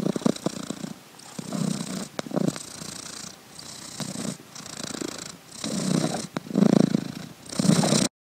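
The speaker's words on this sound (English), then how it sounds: "Let's take a second and listen to a cat purring." A cat purrs up close, a soft rumbling rhythm that swells and fades with each breath in and out, repeating for several seconds with nothing else heard.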